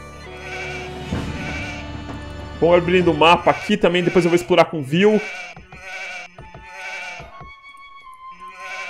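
Sheep bleating in Age of Empires 2 HD, a run of several loud, wavering bleats in the middle, with someone speaking Portuguese over it and before and after.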